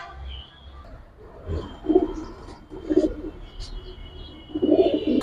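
Giribaz pigeons of the silver lalpatti type coo in a series of low, throaty calls spaced a second or so apart, growing louder toward the end, with faint bird chirps in the background.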